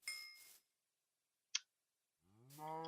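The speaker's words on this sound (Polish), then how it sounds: "są krowy" Minecraft cows give two short synthetic moos, one at the start and one at the end, with a single sharp click between them in otherwise silent game audio.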